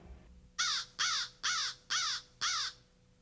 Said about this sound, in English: accompanied by the sound of crows.